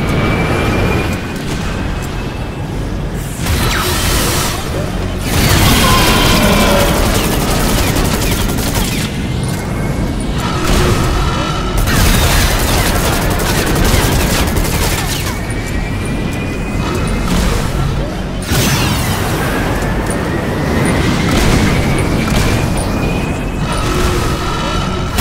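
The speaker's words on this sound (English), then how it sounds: "You can grab rockets and aim them at the enemy." Rockets fired at enemies in the VR shooter game Bullet Train, a continuous, loud barrage of rapid gunfire, repeated booming explosions and crashing impacts that runs without pause.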